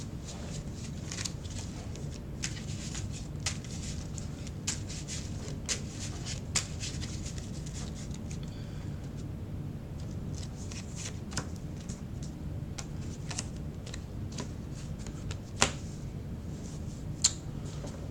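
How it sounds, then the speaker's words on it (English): A deck of Yu-Gi-Oh cards is shuffled softly and close by in repeated riffling bursts with small sharp snaps, quiet and steady across the whole stretch with no talk. "we'll go ahead and shuffle one more time"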